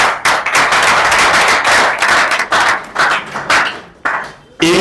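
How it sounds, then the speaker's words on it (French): Loud, close clapping from an audience at a political campaign launch, coming in vigorous bursts with short gaps and a slightly rhythmic pulse, ending abruptly. "qu'on va applaudir très très fort pour eux"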